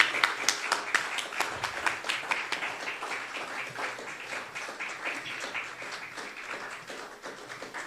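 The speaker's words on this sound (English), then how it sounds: "Let's welcome them with a big round of applause." An audience at a business forum chapter meeting applauds guests on the dais, with moderately loud, rhythmic clapping from a modest crowd that starts strongest and gradually softens.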